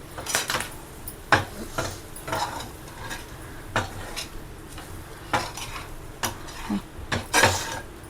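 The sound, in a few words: roasting mutton liver with spices in a pan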